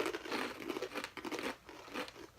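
Crunchy packaged snack from Israel being chewed and crinkled up close, a dense run of crackly bites in bursts with brief pauses, no talking.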